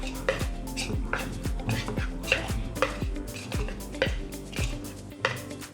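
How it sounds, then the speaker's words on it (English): Chickpea flour and boiling water stirred into a soft dough in a bowl, with repeated knocks and scrapes of the utensil against the bowl in a steady rhythm, close and fairly loud, with no talk. "we're going to get that all stirred up until it's well combined and making a nice soft dough"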